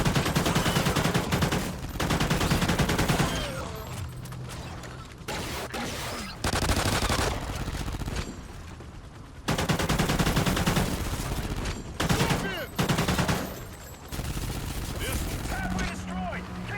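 Rapid gunfire rattles in Zombies on Point of Contact, bursts of automatic shots repeating in dense clusters across the whole stretch, broken by short pauses and mixed with game effects.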